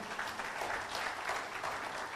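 Applause from a seminar audience at a motivational talk on the laws of success, a steady dense clatter of many hands clapping at even loudness throughout, with no voices over it.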